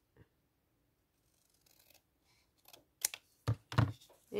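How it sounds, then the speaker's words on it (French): Scissors snip through paper while a junk journal pocket with a window is made, a few sharp close cuts near the end after quiet rustling. "Là, je vais couper."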